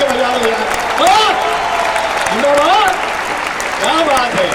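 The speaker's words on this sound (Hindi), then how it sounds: "एक बार ताली हाथ उठा के बजा लो यार" An audience at a Hindi poetry recitation claps together in a sustained wash of applause, while a voice speaks and exclaims loudly over it.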